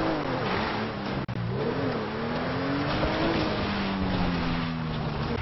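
A Ford Mustang GT500 drives in GTA 5, its engine note rising and falling through shifts and revs as the car cruises along, a continuous moderate drone with a brief cut partway through.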